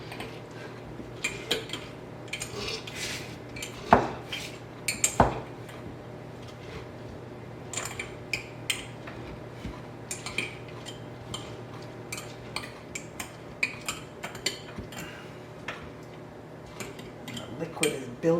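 Cabbage for sauerkraut being packed down by hand into a wide mouth jar, giving scattered soft clunks, squelches and occasional sharp clinks of glass, close and moderately quiet over a low steady background hum.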